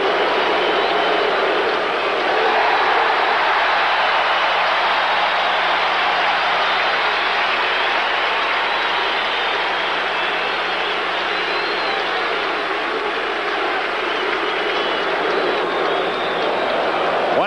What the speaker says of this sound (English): The crowd standing. Listen to them. They'll tell you what's happening.